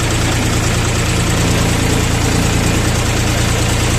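A Bulat 244 mini tractor's diesel engine runs steadily, a loud, unbroken mechanical drone with a constant low throb and no voices over it.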